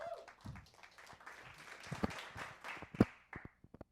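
A small audience at a stand-up comedy show claps for a comedian, light and scattered with a few sharp close claps, and a voice speaks briefly at the start.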